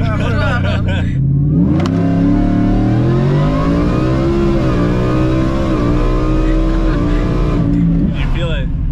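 A 1,100-horsepower street truck launches hard, its engine revving loud and close with a rising, sweeping roar that holds for several seconds before easing off, with voices faintly beneath it.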